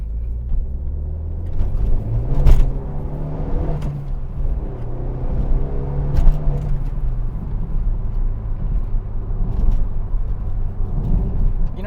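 A Renault Megane RS accelerating on a back road, heard from inside the cabin as a loud, rising and falling engine rumble with shifting pitch as it revs through gears, a couple of sharp thumps along the way, no talk.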